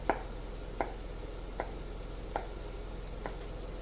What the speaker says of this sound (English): very, very rough chop